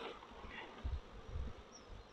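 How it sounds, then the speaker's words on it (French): Drone bees in a queenless, drone-laying beehive buzz in a dense, steady hum with low thrumming swells, close and fairly soft, no voices. "C'est déjà qu'il y a beaucoup de bourdons."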